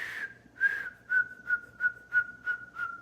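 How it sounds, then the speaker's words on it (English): A person whistles a quick run of about eight short, evenly spaced notes at a steady pitch, close and clear with no talk. "Can you whistle?"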